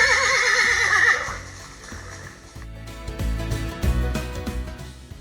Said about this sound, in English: like these horses here